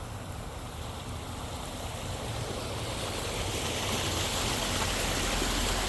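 Floodwater on a flooded road in a southwest Miami-Dade neighborhood after sudden rainfall, a steady broadband rush of flowing water that grows slightly louder over the span, with no talking.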